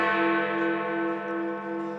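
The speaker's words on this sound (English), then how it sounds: "8 o'clock and Big Ben's final chimes." Big Ben, the clock tower bell in London, rings out a loud, sustained chime with dense ringing overtones that hang and slowly decay, no voices present.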